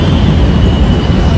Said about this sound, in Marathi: आणि वरून मेट्रो